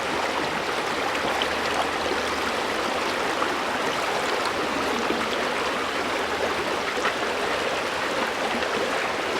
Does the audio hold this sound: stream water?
yes